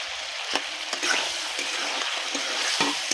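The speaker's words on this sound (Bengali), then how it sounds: "আমি কিন্তু ভাজা মশলা দিয়ে কষিয়ে নিচ্ছি।" Goat meat being stir-fried with fried spices in a pot, a steady close sizzle with repeated scraping stirs of a spatula, no voices over it.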